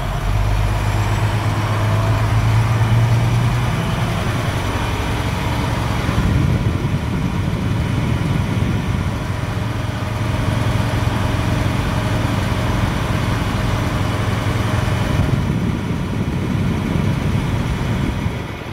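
A Class B truck's diesel engine idles steadily as its air brakes build pressure, a continuous low rumble that stays loud and close throughout with no talking.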